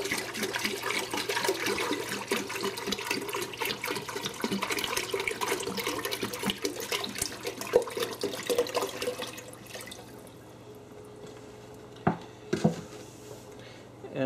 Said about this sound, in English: So I'm just gonna pour the RODI water in here.